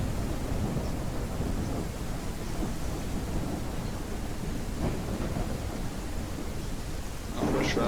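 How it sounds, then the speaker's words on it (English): Thunder rolls and rumbles over steady, dense rain in the Ranch Simulator video game, a continuous broadband wash with a sharper crack near the end. "I like the cracks of thunder too"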